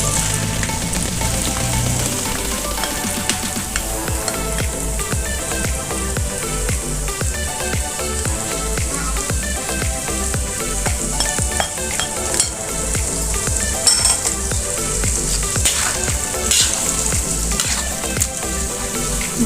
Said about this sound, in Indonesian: Nah, kemudian lanjut kita goreng